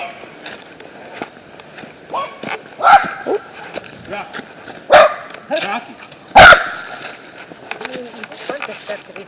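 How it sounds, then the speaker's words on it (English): Several dogs in a park bark in loud, sharp bursts, near and scattered over a rustle of movement, while people talk and call over them. "They're doggies."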